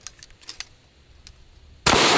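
A 12-gauge shotgun fires buckshot in a single loud, sudden blast that cuts in near the end after a few small clicks and handling noises.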